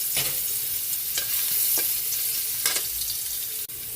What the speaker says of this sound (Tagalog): Mag-igisa na tayo para sa ating sweet and sour.